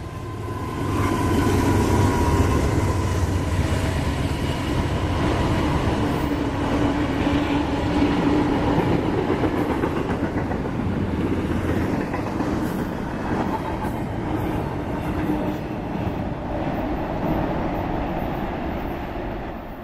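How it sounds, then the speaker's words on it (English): Eastbound freight train Q127 thunders past at track speed near Batavia, New York, with a steady, loud rumble of wheels and rail clatter close by for the whole stretch and no voices. "Slow train meets fast train as about a minute later Q127 comes through at track speed"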